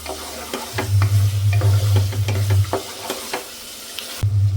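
Biryani masala sizzles in a pan while a spoon stirs it with rhythmic scraping strokes, and a low steady hum from the stove or a fan runs underneath.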